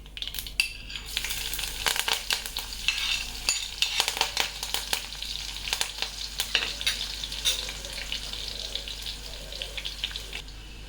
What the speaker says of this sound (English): At this time, I'm going to add some chopped onions and curry leaves.